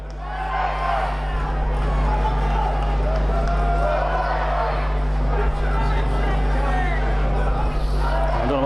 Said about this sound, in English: I don't know what the crowd are complaining there for